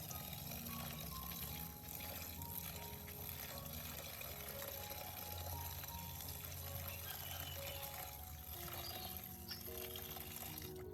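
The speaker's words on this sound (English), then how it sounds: "I change the water and rinse again until the water is clear" Steady swishing and trickling of water as dill is gently stirred and rinsed in a bowl, continuous and close, with no talking.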